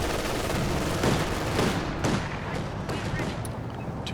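A steady barrage of mortar fire thumps and booms in a real-time strategy game match, the blasts dense and overlapping into a continuous rumble.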